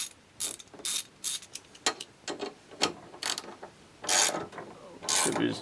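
A socket wrench ratchets close by while bolting a Honda GXV140 engine to its deck, giving bursts of rapid clicking strokes with short pauses between them and no talk.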